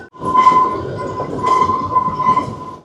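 The Kalka–Shimla heritage toy train runs along its mountain line with a loud, close rumble of wheels and carriages and a steady high metallic whine above it.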